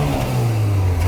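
A Citroën Xantia with a 2-litre 16-valve petrol engine revs with a blip of throttle, a loud, steady engine tone heard up close with no talking.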